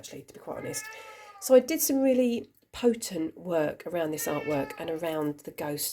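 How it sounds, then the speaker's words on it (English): A pet cat meows close by, drawn-out and wavering, as a person keeps talking over and between the cries. "apologies for my kitty cat"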